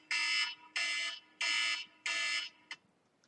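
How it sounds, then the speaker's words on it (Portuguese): Four loud, evenly spaced alarm beeps, each about half a second long, followed by a short fifth chirp that cuts off, with no voices. "você viu a coincidência do alarme que eu tinha colocado aqui"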